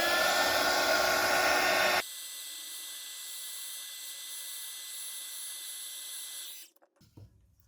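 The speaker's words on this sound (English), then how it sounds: "And then a bit of a blast with a heat gun." A heat gun blasts across resin in a clockwork-themed bubble tray mould, a loud, steady rushing blower noise for two seconds, then dropping to a quieter continuous hum before cutting off near the end.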